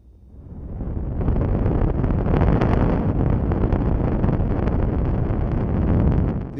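White noise, distorted and passed through a filter, swells up into a loud, steady roar much like a rocket engine, rumbling heavily and sustained without a break.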